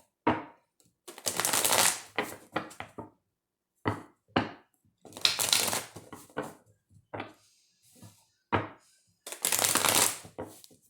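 A tarot deck being shuffled in several close, crisp riffling bursts of a second or so each, interspersed with short taps and card handling sounds and brief quiet gaps, with no talk.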